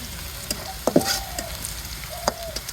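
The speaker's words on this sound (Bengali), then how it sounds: "পেঁয়াজগুলো ভাজা হয়ে গেছে" Onions fry in a pan for a fish curry with drumsticks, giving a soft steady sizzle broken by a few sharp pops and clicks, with faint tonal sounds in the background.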